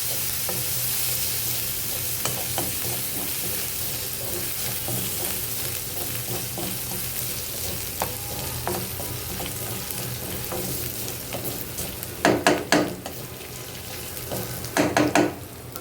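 Garlic fries in hot oil for tempering greens, a constant close sizzle with a spatula stirring and scraping the pan, and a few sharp metallic clatters near the end.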